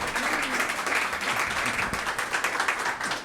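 Moderate applause from an academic audience greeting a professor at a panel, a steady patter of clapping from a modest crowd throughout.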